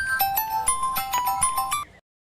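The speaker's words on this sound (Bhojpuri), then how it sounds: "आपके कर फोन आवत बा" A mobile phone ringtone plays a bright melodic sequence of repeated electronic notes, loud and close, then cuts off abruptly into silence.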